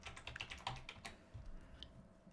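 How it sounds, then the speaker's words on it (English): Quick bursts of typing on a computer keyboard, close and fairly quiet, a few uneven clusters of keystrokes with brief pauses between them and no talking. "let's just type in viewshed here."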